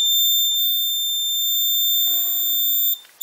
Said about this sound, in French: les LED s'éteignent et le buzzer s'active.